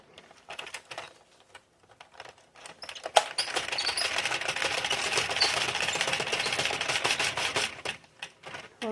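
ADDI 46 circular knitting machine cranked without yarn, a few loose clicks and then a dense, continuous rapid clatter of needles for several seconds, close and fairly loud.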